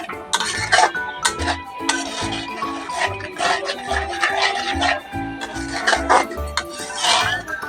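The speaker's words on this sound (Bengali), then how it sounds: "ভালো করে নাড়াচাড়া করে" Curry with spices stirred in a pan, with repeated scraping and knocking of a utensil against the pan in an uneven rhythm, close and fairly loud, with no talk.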